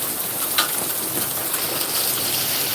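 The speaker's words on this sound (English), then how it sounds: "The raindrops are colder than back home." Cold rain pours steadily during a storm, a dense continuous hiss of drops heard close up, with no talk over it.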